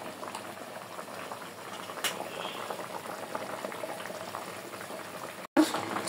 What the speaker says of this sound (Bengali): শিলন মাছ বেগুন দিয়ে রান্না করছি।